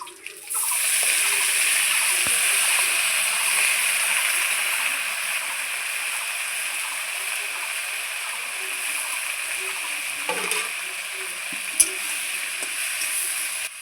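Lafa greens hitting hot oil in a frying pan, giving a steady, loud hiss and sizzle that starts abruptly and holds throughout with faint clinks, while someone speaks over it.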